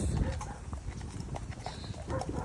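Horse hooves clip-clop on a hard surface in a steady walking rhythm, one strike sounding slightly looser and clinkier than the rest from a loose shoe.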